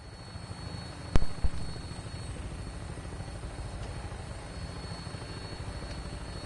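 A helicopter flies in Fallout 4, its rotors and engine making a steady, loud, close drone from start to end. A sharp thump or two breaks in early on.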